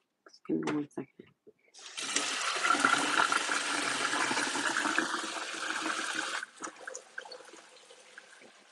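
Household toilet flushed nearby: after a few clicks and bumps, a loud rushing whoosh of water lasts about four seconds, then drops to a quieter trickling refill.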